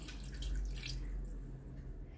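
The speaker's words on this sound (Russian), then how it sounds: "Добавляем еще немного воды, чтобы рыбка была покрыта." Water splashes briefly into a cooking pot holding pieces of fish and potatoes, a soft, close pour that trails off into quiet bubbling and stillness.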